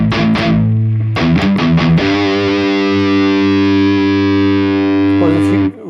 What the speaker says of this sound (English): the gate is cutting off a lot of the signal